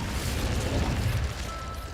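An Incendio fire spell cast in Hogwarts Legacy gives a dense, roaring whoosh of flame with a booming low rumble. It sounds loud and close and carries on unbroken, then eases off slightly near the end.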